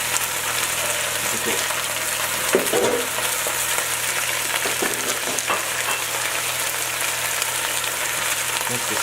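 Fresh spinach sautéing in a warm pan, a steady continuous sizzle with occasional stirring scrapes, close and fairly loud, while a person talks briefly.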